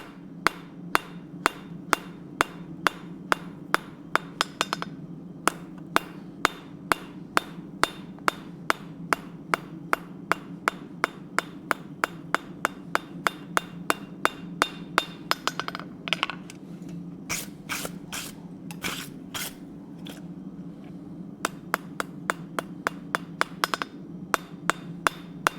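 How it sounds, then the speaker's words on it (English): During forging, a hammer strikes hot metal on an anvil in a long, steady run of sharp, ringing blows about twice a second, with a few brief pauses and faster bursts, over a constant low forge roar. "Go ahead and hammer the flat on this again."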